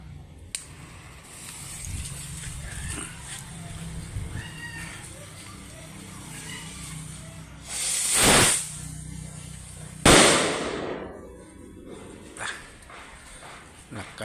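Kwitis firework test fire with an Al Aquino lifter: two sharp broadband bursts about two seconds apart, the first a hissing whoosh and the second a loud bang with a fading tail, over background noise and faint chatter.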